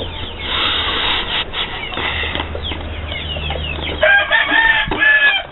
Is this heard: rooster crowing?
yes